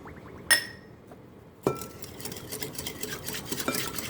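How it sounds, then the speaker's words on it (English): A spoon stirs cinnamon, cardamom, vanilla and sugar for semolina parsad in a glass bowl. One bright clink comes first, then after a pause a steady run of close scraping and tinkling strokes, with no talking. "Mix everything up."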